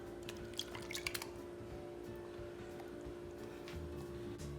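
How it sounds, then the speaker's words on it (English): Nine lightly beaten eggs, poured into a bowl already holding bacon and onion, drip and splash in a quick cluster of soft wet spatters, then settle into a faint steady trickle under quiet background hum. "we're going to pour in our 9 lightly beaten eggs"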